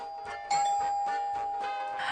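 A doorbell chimes indoors with a clear two-tone ding-dong that starts abruptly and rings on with a sustained tone, loud and close, no talking over it.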